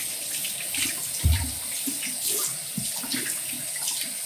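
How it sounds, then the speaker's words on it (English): Running tap water pours steadily over a soapy hand being rinsed at a sink, a continuous close splashing hiss with slight shifts as the hand moves through the stream. "Rinse my hand quickly."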